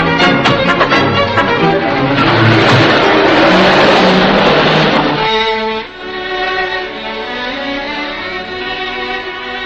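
A 1941-era car pulls away and accelerates hard, its engine roaring loudly and rising in pitch before easing into a steadier drone.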